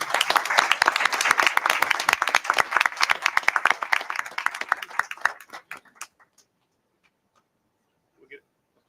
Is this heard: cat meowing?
no